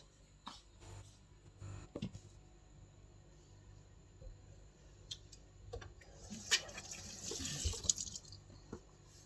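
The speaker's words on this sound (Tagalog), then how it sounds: "maghuhugas ako ng plato guys" Dishes are washed under a running tap at a kitchen sink, with faint water flow and soft clinks and splashes close by, rising toward the end.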